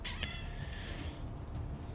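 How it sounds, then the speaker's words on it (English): A cat meows faintly in the background, a drawn-out plaintive cry heard under the steady engine and sea rumble of a naval battleship battle game. "Never mind the cat in the background"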